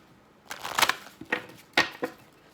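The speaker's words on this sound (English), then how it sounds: "One more shuffle." A deck of angel cards is shuffled in a few quick riffling bursts, crisp and close, with short pauses in between.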